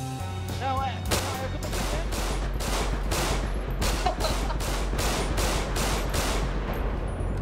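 Rapid bursts of video game gunfire from GTA RP crack in a dense, repeated volley, about a dozen loud evenly spaced shots over a steady low hum, with voices briefly heard at the start.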